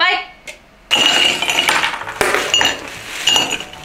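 Glasses clink together in a drinking toast, a bright short clink followed by clattering glassware, with people talking and laughing close by.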